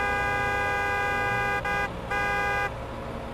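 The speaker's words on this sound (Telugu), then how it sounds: "సూపర్ స్పీడో, హారన్ కొట్టు." A cartoon car horn honks in long, loud, sustained blasts with brief breaks between them, set against a busy animated soundtrack.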